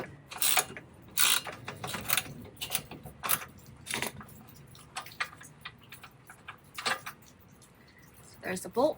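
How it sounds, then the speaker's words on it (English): A 17mm socket on a ratchet loosens a rear shock bolt on a 2007 Honda Fit, with bursts of close ratcheting clicks in short runs separated by pauses, fairly quiet overall. "Dennis is going to take a 17mm socket ratchet combo"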